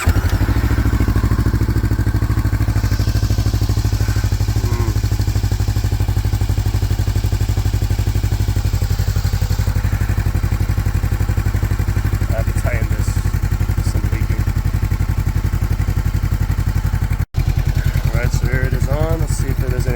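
A Honda CBR 500R motorcycle fitted with a Leo Vince GP Corsa exhaust idles steadily and close by, with a continuous low engine rumble and a faint clatter throughout; a brief dropout occurs near the end.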